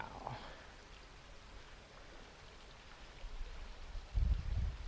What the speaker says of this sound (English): The sound of that water is going to put me right to sleep tonight.